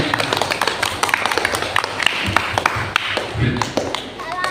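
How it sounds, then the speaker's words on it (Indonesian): Audience applause for Ustaz Qadir at a religious gathering, a sustained patter of many hands clapping with occasional thumps, moderately loud and close. "Saya minta tepuk tangan dulu Ustaz untuk Ustaz Qadir."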